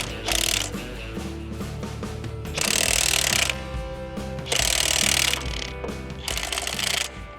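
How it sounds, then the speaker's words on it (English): Repeated bursts of a power tool driving a flywheel bolt tight on a Terramite backhoe in a garage, three loud, rattling stretches lasting about a second each, separated by steadier mechanical running. "I was trying to put that flywheel bolt back on there"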